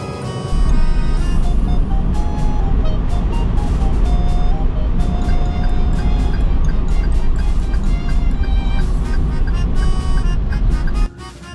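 Engine of a Daihatsu Atrai camper van holding back in second gear on a long downhill road, a loud steady drone with whining harmonics and road rumble throughout, fading at the end.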